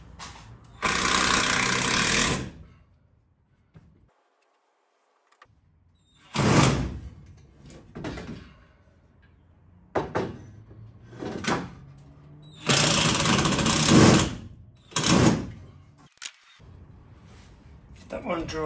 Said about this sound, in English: Drove in well because I think it's a timber post I've hit.